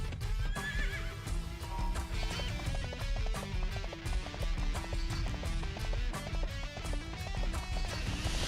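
A white horse in the video game Dynasty Warriors 3 neighs and gallops with steady hoofbeats, mixed under dense, loud game music throughout.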